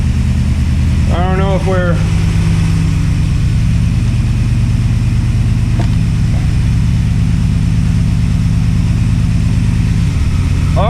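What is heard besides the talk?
Project Scout engine driving in first gear after carb rebuild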